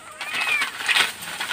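Cats meow repeatedly at close range with rising, drawn-out cries, with a voice talking briefly around them in a home setting.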